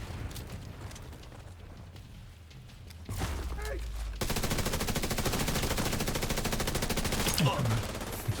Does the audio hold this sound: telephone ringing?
no